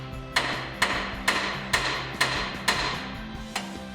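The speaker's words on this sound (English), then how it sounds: "then we'll smack it with a hammer and get it out of there" A hammer strikes the steering knuckle of a 2007-2018 Silverado or Sierra pickup to pop out a tie rod, eight sharp metallic blows at a steady, even rhythm, close and loud.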